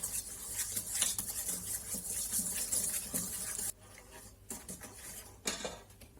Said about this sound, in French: On met 2 œufs et 200 ml de sucre. Et on mélange.